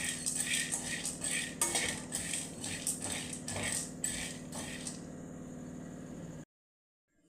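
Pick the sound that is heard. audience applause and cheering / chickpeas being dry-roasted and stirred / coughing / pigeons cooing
chickpeas being dry-roasted and stirred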